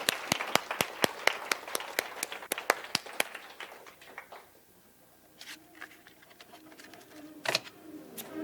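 A handful of people clap after a talk, giving a series of sharp, close, separate claps that thin out, then a few scattered late claps with quiet room noise in between.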